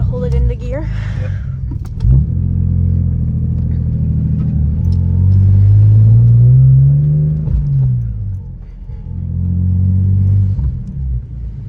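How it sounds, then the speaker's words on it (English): A BMW E46 with a ZF 5-speed manual transmission rumbles loudly while driving, its engine note rising and falling with a whining tone swelling mid-run. Talk can be heard in the car. "That's a very whiny transmission."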